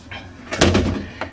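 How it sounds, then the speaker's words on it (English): A door is pulled shut with a muffled thud and scrape, a brief close knock following a moment later, in a small confined space. "Close the door."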